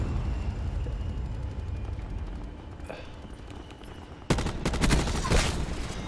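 Weapon fire in the Call of Duty Black Ops 4 video game: a sudden loud burst of shots bursts in late, following quieter game ambience, with a voice faintly present.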